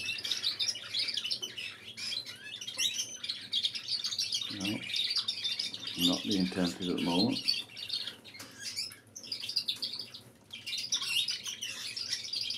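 Canaries kept at home chatter and chirp steadily throughout, a dense layer of twittering song, while a person speaks briefly in the middle.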